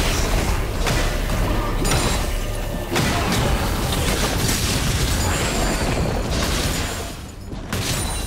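A turret being destroyed in a League of Legends match, heard as a dense, loud explosive boom that fills the whole stretch, with rumbling bursts and crackling game effects.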